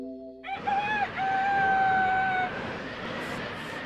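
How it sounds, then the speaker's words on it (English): In Harvest Moon 64, a typhoon storm sound effect begins after a brief tone, a loud rushing noise with howling whistling pitches sliding over it, steady to the end. "That is the sound of a typhoon."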